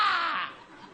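A human voice imitates a crow, giving one loud, hoarse, drawn-out caw close to the microphone.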